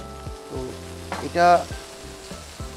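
Oil sizzles steadily in a pan with a spinach-stuffed chicken breast, frying up close with a brief louder flare midway, while a person talks over it.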